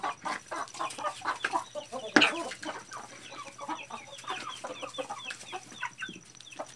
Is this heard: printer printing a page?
no